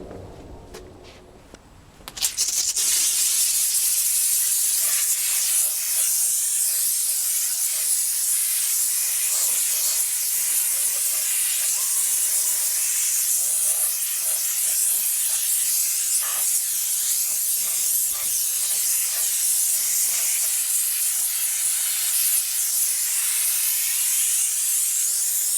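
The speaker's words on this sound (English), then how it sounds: "we're going to see how the steam cleaner works on cleaning that up" Steam cleaner blasting steam onto a motorcycle wheel: a loud, steady hiss starts after a brief quiet moment and continues unbroken at close range.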